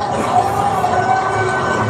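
Crowd of onlookers in East and West Berlin cheering and applauding at the Brandenburg Gate during the 17 June 1953 uprising, a steady dense roar of many voices throughout, loud and continuous.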